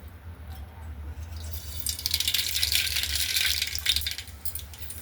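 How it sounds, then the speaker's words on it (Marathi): Mustard seeds crackling in hot oil in a pan on a gas stove, starting quiet then swelling into a dense burst of sharp pops and sputters over a low hum. "मोहरी छान तडतडली आता आपण याच्यामध्ये जिरे टाकू"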